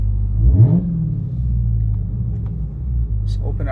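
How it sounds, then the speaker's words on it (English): A 2021 Dodge Charger Hellcat Widebody's engine idles with a deep rumble through its exhaust, then gives one quick rev that rises and falls back to idle; brief speech at the end. "Give you a couple revs here."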